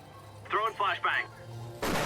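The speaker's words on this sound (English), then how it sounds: "Throwing flashbang." A flashbang grenade is thrown in the video game The Finals; a brief spoken voice line is followed by a sudden loud, harsh blast that fills the end of the clip.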